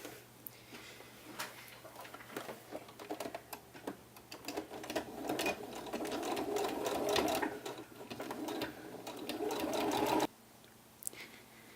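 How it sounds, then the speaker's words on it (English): A sewing machine stitches around a blouse sleeve cuff in close, steady runs of rapid needle chatter, pausing and restarting, with a short burst after a near-silent gap at the end. "you will now need to stitch all the way around your sleeve cuff"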